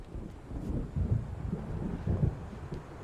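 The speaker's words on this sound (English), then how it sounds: "It seems there's a storm coming." Low rolling thunder from an approaching storm in the video game Alan Wake Remastered rumbles in several swells, deep and fairly loud, mixed with wind-like noise and no talk.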